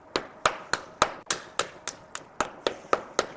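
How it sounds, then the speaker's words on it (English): A hammer knocks on the frontal bone of a skull during an orbit dissection, giving about a dozen sharp, evenly spaced taps close by, each a short crisp impact with a quick decay. "just take a hammer and knock on the frontal bone and break it into small pieces"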